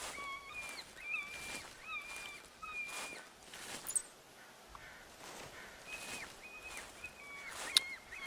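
In the hunting game theHunter Classic, birds give a series of clear, whistled calls with stepped pitch, repeated through the stretch at moderate distance over a faint outdoor ambience, with no talking.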